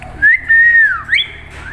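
A pet parrot whistles a clear, drawn-out tone that holds steady, dips, then jumps upward in a couple of short rising notes, loud and close against a faint background hum.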